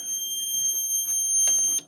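A fire alarm panel giving a trouble signal from end-of-line resistor faults on its devices: steady high electronic tones held throughout, with a few brief bursts of higher beeping near the end, close and loud.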